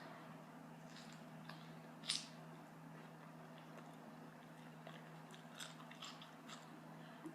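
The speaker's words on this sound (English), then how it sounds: "I love how the lettuce is so crunchy." A few quiet crisp bites and crunches of fresh lettuce in a Taco Bell taco, spaced apart, over a low steady hum.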